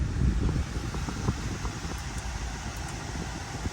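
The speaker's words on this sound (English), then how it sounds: "You can hear the AC." A steady broadband whoosh of air from a 2012 Audi Q5's air conditioning blower running continuously inside the car, with a few faint soft knocks.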